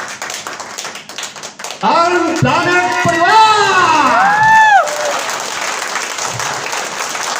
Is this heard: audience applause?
yes